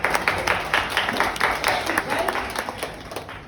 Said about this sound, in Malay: Berikan tepukan dulu.